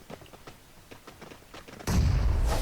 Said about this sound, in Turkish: Bomba atacağım.